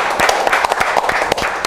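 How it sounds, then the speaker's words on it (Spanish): Loud, dense applause from an audience cheering the top prize winner of a 2020 volunteer firefighters' raffle, with sharp individual claps over a steady crowd wash throughout. "Fuerte el aplauso para Yamila Palomés"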